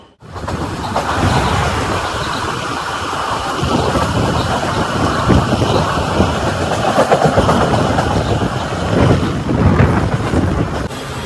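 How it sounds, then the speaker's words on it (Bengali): A moving passenger train on a local line through Hooghly between Liluah and Baruipara gives a steady, loud rumble with rattling wheel clatter, heard continuously throughout with no talking. "দেখো ট্রেন ছেড়ে দিয়েছে অলরেডি"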